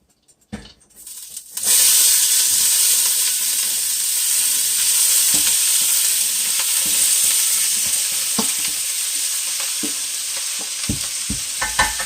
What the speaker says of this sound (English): So we're going to let that cook a little bit more. And we're going to add our cabbage here.